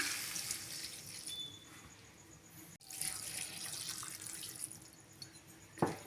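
Water poured into a cooking pan of cabbage and beans, a soft continuous trickle and splash that fades and picks up again, heard faintly close by.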